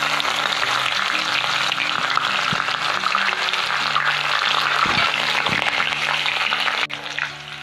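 Chopped green chilies frying in a pan, a steady close sizzle throughout with a few faint clinks of a utensil near the end.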